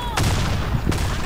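Two sharp Desert Eagle pistol shots in a first-person shooter, each a hard crack with a short booming tail, spaced under a second apart over low background game noise.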